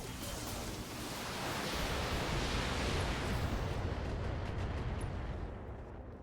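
Mech weapons unload in BattleTech, a dense roaring wash of blasts and explosions swelling to a sustained rumble and then tapering off, loud and unbroken with no voices.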